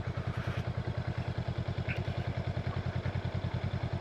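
A 2025 Honda Rebel 500 motorcycle idles through slow maneuvers in a parking lot, its engine giving a steady, even low thumping pulse, close and constant, with faint clatter above.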